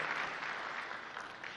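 An audience at an outdoor political chapter event claps steadily, a dense, even wash of applause at moderate volume that carries on for the whole moment with no voices over it.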